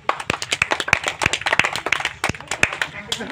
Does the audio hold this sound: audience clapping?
yes